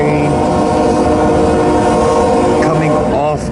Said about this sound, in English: But this is the eastbound stack train